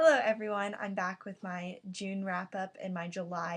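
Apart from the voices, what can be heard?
No distinct noise like a dog, phone or traffic.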